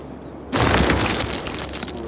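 A building collapses in a city-building game: after a brief quiet moment a sudden loud rumbling crash bursts in and sustains, slowly tapering into a rolling debris rumble.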